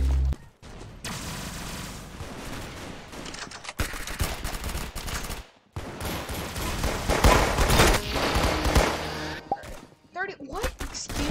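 Bursts of video game gunfire, dense automatic volleys and single shots, run loud and steady through most of the stretch, with brief pauses and a faint voice-like sound near the end.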